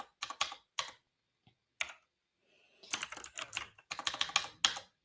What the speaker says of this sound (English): I'm typing really poorly right now